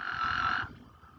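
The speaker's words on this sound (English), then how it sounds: "So this is what Mexican spadefoot toads sound like." A single buzzy, nasal Mexican spadefoot toad call rings out for about half a second, fairly close and alone, then fades into quiet background.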